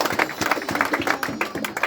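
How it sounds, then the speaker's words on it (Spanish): People clapping for a birthday cake at a family gathering in Guatemala, a small group's close, uneven claps in quick bursts with some voices mixed in. "Un aplauso fuerte, fuerte, fuerte"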